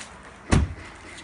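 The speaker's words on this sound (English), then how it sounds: "the central lock of the car works and the doors are unlocked." Central locking on a 2012 Subaru Impreza WRX STi unlocking the doors, a single short thunk of the lock actuators against quiet background.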